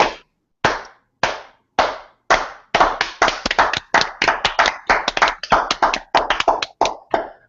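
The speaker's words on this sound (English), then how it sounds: "Can we get a slow clap?" A podcast audience gives a slow clap: sharp separate claps at first, spaced evenly, then quickening and thickening into dense overlapping clapping from many hands, loud and close.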